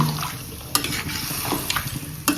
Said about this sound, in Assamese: ধুনীয়াকৈ লৰাই দিওঁ মই।